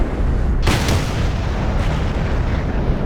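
A T110E5 tank fires its cannon in the video game World of Tanks, a single loud, deep boom that bursts out over steady engine rumble and rolls on into a long low tail.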